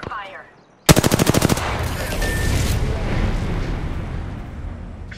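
Gunfire in Apex Legends opens with a sharp, rapid burst of about a dozen automatic shots. A long rumbling wash and a faint tone follow, all loud and close after a brief quiet start.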